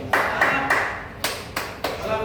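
A small group claps at a certificate ceremony for welding graduates, with several brief, sharp bursts of applause and short pauses between them, close and fairly loud.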